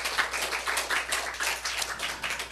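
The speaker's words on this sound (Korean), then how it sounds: "우리 하나님께 박수 올려드려요" A church congregation claps during a Sunday service, a steady burst of many hands clapping, moderately loud and continuous, with no voices.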